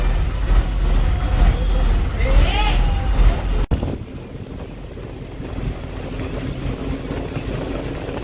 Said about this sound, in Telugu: ఆర్టీసీ బస్సులో